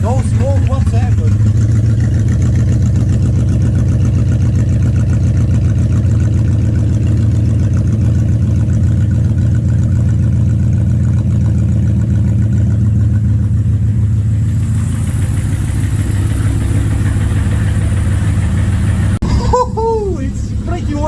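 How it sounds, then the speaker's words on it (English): A BMW E65 735i V8 idles on its first start after an engine swap, a steady low rumble running throughout at close range, with a faint vacuum-leak hiss and brief noises near the end. "Apparently the new engine is working."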